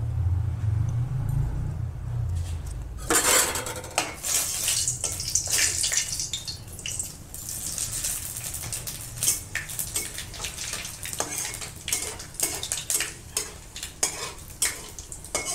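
Panch phoron, a mix of cumin, fennel, fenugreek, nigella and radhuni seeds, hits hot oil in a pan for dal and bursts into a loud, steady sizzle, with a low rumble before it and scattered crackles and stirring clinks throughout.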